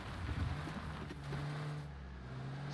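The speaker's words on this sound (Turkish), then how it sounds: "Solda araba, solda araba sesi." A car drives in the battle royale video game PUBG, its engine a faint, steady drone that hums on in the distance throughout, with no talking.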